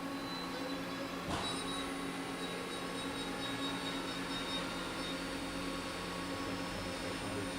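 A 2003 Mori Seiki SL-2500SMC CNC lathe runs steadily, its spindle turning at speed with a six-inch Kanagawa chuck. It gives a constant mechanical whine and hum, with one brief click near the start.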